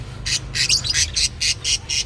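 Rapid bursts of high-pitched bird chirping repeating in a quick, regular rhythm, close and fairly loud over a low background hum.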